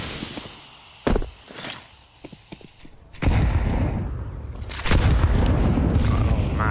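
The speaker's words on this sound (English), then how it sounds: "Oh, massive grenade at the start." Grenade blasts in a Counter-Strike match, with sharp booms and scattered gunfire cracks early, then a loud sustained roar of explosion and battle noise dominating the latter half.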